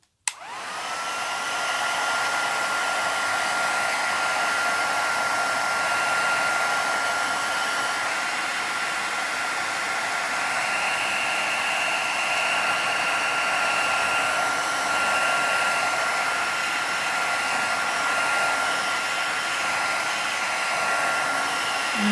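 A hair dryer roars steadily and close for over twenty seconds, a constant airy whoosh drying paint on a small mixed media canvas, with no talking.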